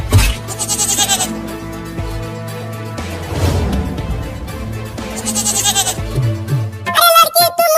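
Cartoon goat bleats come in short wavering cries over background music, and cartoon voices talk between them.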